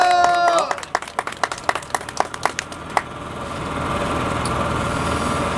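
Scattered, uneven clapping from a small crowd at an outdoor student rally opposing impeachment, given for police officers keeping order; claps fade after a few seconds into steady engine-like background rumble with talk nearby.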